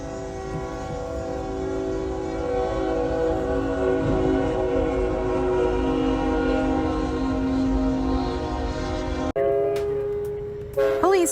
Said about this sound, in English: Police officers in Iowa didn't think too much about a train blowing its horn until they realized why.